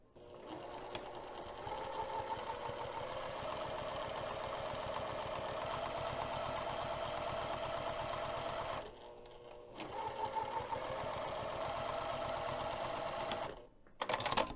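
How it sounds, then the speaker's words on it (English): A sewing machine stitches steadily while machine quilting with a 3 mm lengthened stitch, its fast even hum running close and continuous, with a brief pause before it resumes and stops near the end. "I'll be machine quilting using 3 millimeters."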